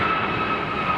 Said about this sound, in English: We have a United, but over there we have a small plane.